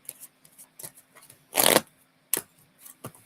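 Tarot and oracle cards being shuffled up close, a series of soft riffling and tapping bursts with one longer, louder riffle in the middle, no talk.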